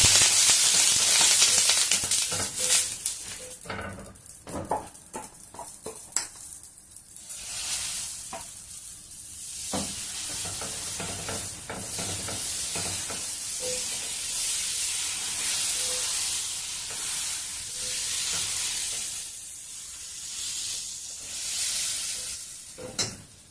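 Moong dal pesarattu batter sizzling and hissing on a hot pan, a steady frying crackle running throughout with bursts of scraping or spreading, loud at the start and easing to a continuous close sizzle.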